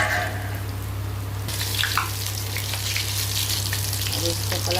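Paneer being fried in a pan, pan-fried and turned like eggs in the manner of egg curry, gives a steady close sizzle with faint clinks and scraping, with no talk over it.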